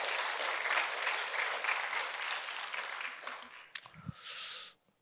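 A church congregation at a Friday prayer service claps for its mission team, steady applause that thins out and stops, followed by brief scattered noises and a short burst of sound at the end.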